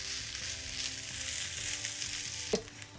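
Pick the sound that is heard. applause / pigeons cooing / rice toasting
rice toasting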